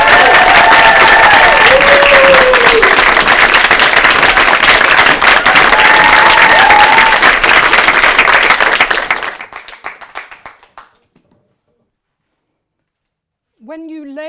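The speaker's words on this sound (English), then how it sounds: "Please give a huge round of applause for our second speaker" An audience at a live speaking event in Birmingham gives a speaker a loud, dense round of applause that fades out after about ten seconds, followed by silence and then a voice beginning to speak.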